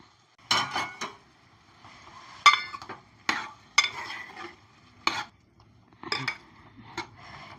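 A spoon stirs cauliflower florets into cooked-down tomato in a pan, giving irregular scraping and clinking strokes against the metal with soft sizzling underneath, close and clear with no voice.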